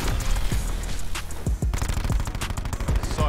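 Rapid bursts of video game gunfire from a DLC weapon crackle and thud in quick volleys, loud and close, with short pauses between strings of shots.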